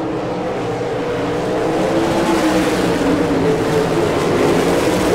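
Race cars roar steadily around a dirt speedway at an All Star Circuit of Champions event in Rossburg, Ohio, a loud continuous engine drone that swells slightly as the pack passes.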